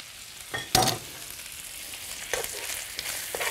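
Herring flash-fries in a pan with a soft, steady sizzle, punctuated by several sharp scraping or clattering knocks, one louder near the start.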